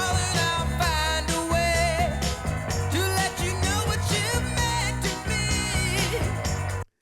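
A surf-pop song: a full, dense band mix with steady drums, bass and vocals that plays loud and continuous, then cuts off abruptly at the end.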